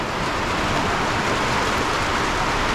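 Rain falls steadily over an outdoor soccer practice in Cali, Colombia, a dense, loud, continuous hiss with no break and no voices.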